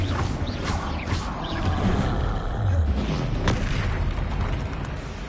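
A spell effect in the video game Hogwarts Legacy lands as a dense, rumbling burst of magical booms and crackles, loud and sustained throughout with layered impacts.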